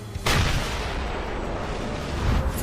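Gunfire in the God Eater 3 action game, a dense sustained roar of shots and blasts running loud and continuous for a few seconds with a sharp onset and a renewed burst near the end.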